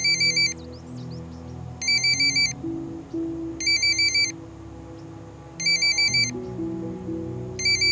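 A mobile phone ringtone plays in repeated electronic bursts, about five evenly spaced rings, loud and close over quiet background music and room sound.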